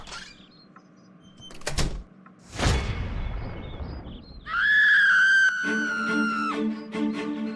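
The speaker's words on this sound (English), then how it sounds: "Did that scream come from Scarlett" A long high-pitched scream in an animated drama scene, rising after a couple of thuds and a whooshing rush, held loud and steady for about two seconds before a lower tonal layer joins it.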